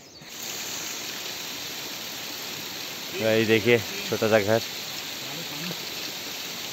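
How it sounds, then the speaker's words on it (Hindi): Water runs steadily through a mountain village at Malana, a soft continuous rushing wash throughout, with someone speaking briefly over it midway. "और बड़े शांति से पानी चला हुआ है, ऊपर से भी पानी आ रहा है यहाँ पीने के लिए।"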